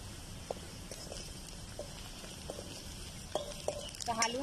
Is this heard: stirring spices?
yes